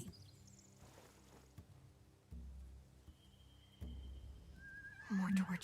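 Horses neigh in a Walking Dead video game scene, a whinny rising near the end over low ambient rumble, with brief talk earlier in the clip.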